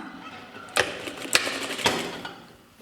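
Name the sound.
sewing machine stitching half-centimetre seam on shirt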